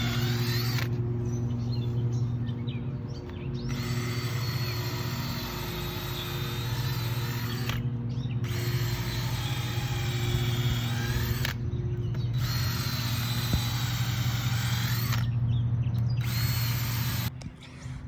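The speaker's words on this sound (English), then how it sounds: "gonna drill holes in this wood stack" A power drill bores holes into a stacked pile of wood logs, several whining bursts of a few seconds each separated by short pauses, loud and close with a steady motor hum beneath.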